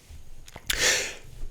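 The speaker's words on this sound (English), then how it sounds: "I think that might be the first sneeze on this podcast." A single sneeze with a short sharp breath in before it, fairly quiet and close, alone on an indoor podcast set.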